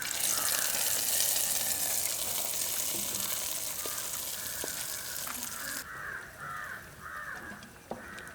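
Cashews and raisins frying in a hot pan for jackfruit seed payasam, a steady close sizzle running throughout, with crow caws nearby in the background.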